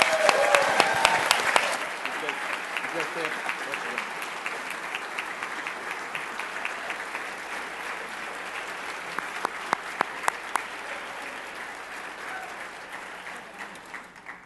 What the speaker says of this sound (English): a round of applause from right here